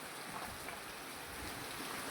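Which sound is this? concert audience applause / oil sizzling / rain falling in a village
rain falling in a village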